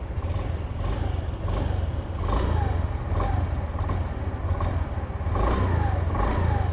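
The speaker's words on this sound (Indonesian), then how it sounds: "Ini satu lagi, suara knalpotnya" Exhaust of a 2020 Honda BeAT Euro 3 scooter, a steady low rumble with a slightly crackly edge, close and continuous, swelling a few times as the throttle rises and falls.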